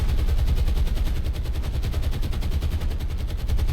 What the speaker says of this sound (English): Fierce anti-aircraft fire being put into the sky, heaving all the way up at that altitude.